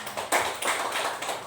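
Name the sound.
applause for a teacher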